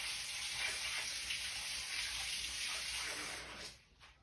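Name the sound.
tap water running while rinsing hands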